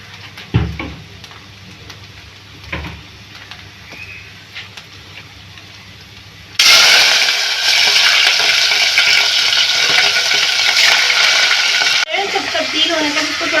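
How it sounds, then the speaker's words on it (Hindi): Half a kilo of chicken dropped into hot oil in a pan: after some quiet knocks and handling, a loud, steady, close sizzle surges in and continues, with a brief shift near the end. "ये ऑयल है, इसमें हम हाफ केजी जो है चिकन ऐड करेंगे।"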